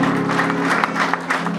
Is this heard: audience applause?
yes